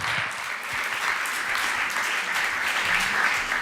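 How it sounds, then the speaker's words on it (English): An audience at an evening event on Eastern European protests applauds speakers, with dense, steady clapping throughout and a faint voice underneath. "give them a warm applause."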